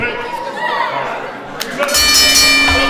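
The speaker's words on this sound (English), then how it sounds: "There's the bell, and away we go." A bell rings at an indie pro wrestling show opening an IEW Championship match, its sustained metallic ring arriving partway through and continuing over crowd noise and voices.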